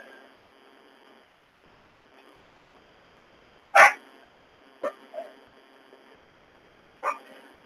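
Dogs bark a few times at moderate distance, one loud sharp bark followed by a couple of softer, spaced yaps over a faint steady background hum.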